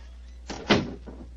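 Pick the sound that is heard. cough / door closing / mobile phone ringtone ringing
door closing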